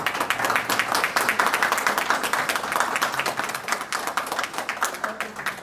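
An audience applauding at a book presentation in Miami: many hands clapping in a steady, busy patter that lasts several seconds without fading.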